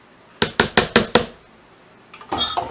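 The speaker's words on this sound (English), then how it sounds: "Yes, I scrape my bowls clean." A spatula or spoon knocks five quick times against a mixing bowl while scraping out thin gluten-free cake batter, then rougher scraping follows, close and clear with no voices.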